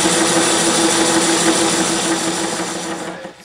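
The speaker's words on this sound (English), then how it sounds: "now I'm going to turn it to size" A metal lathe turning a steam engine valve body down to size, a steady whirring machine hum with a bright ringing tone, fading and stopping near the end.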